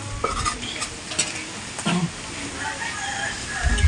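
Food is stirred in a cooking pot, with scattered scraping and clinking of a utensil over a soft sizzle, close by, and a few faint background sounds.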